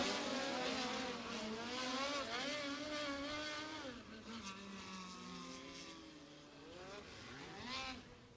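USAC midget race cars roar around a dirt track, engines rising and falling in pitch as they pass and shift, with a loud continuous drone that swells again near the end.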